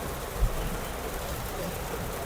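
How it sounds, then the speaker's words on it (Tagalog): Heavy rain in a thunderstorm between Pandacan, Manila and Biñan, Laguna, a dense steady roar of downpour drumming on surfaces with a low thump near the start and no voices. "Grabe, sobrang lakas pa rin talaga ng ulan."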